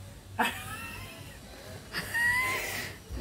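A house cat meows twice, a short cry followed by a longer, drawn-out one, fairly close over a quiet room background.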